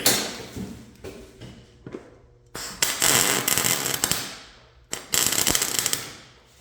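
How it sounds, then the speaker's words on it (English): Crackling, popping spatter from welding a solid round bar to steel tubing at high heat, coming in several loud bursts separated by brief quieter gaps, close up. "So you can hear that spattering happening."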